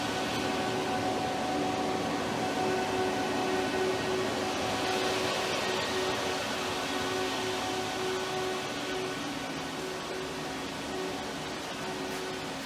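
Steady mechanical hum with tonal whine from a plate steel processor cutting intricate pieces into full steel plate, continuous and fairly loud throughout with no talk.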